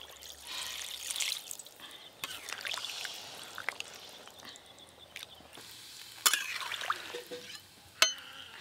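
Water poured into a pot of mutton and potatoes cooking in spice masala, a soft splash and hiss with scraping stirs and a couple of sharp clinks, fairly quiet, no voices.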